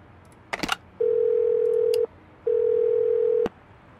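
Phone ringing tone in the video game Do Not Feed the Monkeys: a short click, then two long steady electronic rings separated by a brief pause, loud and clear over a faint background hum.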